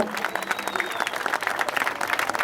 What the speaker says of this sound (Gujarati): જોરદાર તાળી પાડજો।